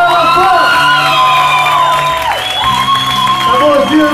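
At a live concert, a loud crowd cheers, whoops and shouts with clapping mixed in. Sustained voices rise and fall in a roaring, energetic wash.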